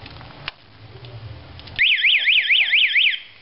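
A loud warbling motorcycle anti-theft alarm suddenly blares, sweeping up and down rapidly in pitch for over a second after some quieter rustling and handling noise.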